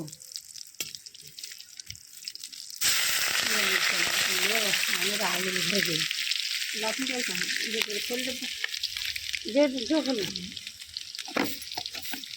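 Cumin sizzles and crackles steadily in oil in a pan, a continuous frying hiss with occasional people talking over it.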